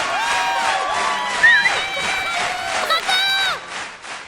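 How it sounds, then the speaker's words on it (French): A crowd of small garden creatures cheers and applauds a flea's circus triple somersault, with layered shouts and whoops swelling loud and close across the whole stretch, peaking briefly midway. "Ce fut un triomphe, si l'on en croit le tonnerre d'applaudissements qui suivit."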